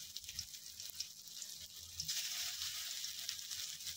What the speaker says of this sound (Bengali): কড়াই গরম করে আমি সরিষার তেল দিয়ে নিয়েছি। এক এক করে সব কাঁকরোলগুলো দিয়ে নিব।